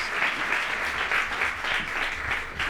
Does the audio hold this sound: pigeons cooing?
no